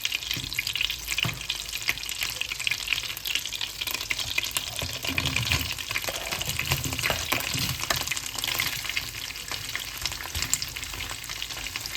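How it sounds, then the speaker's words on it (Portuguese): Cheese frying with a little garlic in a pan for cheese farofa, a loud dense continuous sizzle and crackle close up, with occasional stirring clatter and no voices. "eu vou colocar só um pouco de alho e vou fritar o queijo. Vamos fritar bem ele."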